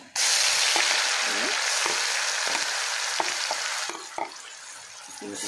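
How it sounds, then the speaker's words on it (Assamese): Ground onion paste fries in hot oil spiced with cinnamon, cardamom and cloves for a mutton curry, giving a loud continuous sizzle broken by scraping stirs and small pops, with no voices. "পিঁয়াজখিনি অকণ ভাজি লওঁ"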